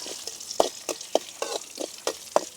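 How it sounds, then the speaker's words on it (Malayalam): Garlic and curry leaves fry in hot oil for an egg dish, a steady sizzle broken by a series of sharp spoon-against-pan scrapes and taps as the mixture is stirred, close and fairly quiet. "ഇനി നമുക്കിതൊന്ന് ഇളക്കി കരിയാപ്പലയൊക്കെ ഒന്ന് മൂത്ത് വെളുത്തുള്ളിയുടെ പച്ചമണമൊക്കെ ഒന്ന് മാറട്ടെ"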